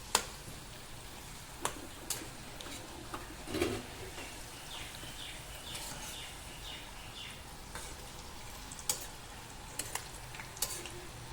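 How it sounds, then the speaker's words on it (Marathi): Cluster bean pods fry in hot oil with a low, steady sizzle, broken by occasional light clicks and stirring taps at close range. "या अशा प्रकारे गवारीच्या शेंगा आपण राहिलेल्या सगळ्यावर तळून घेऊया."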